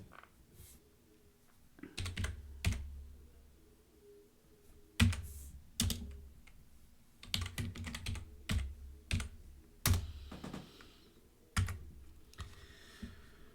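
Python program code is typed on a computer keyboard in irregular bursts of crisp, close key clicks separated by short pauses, with no speech.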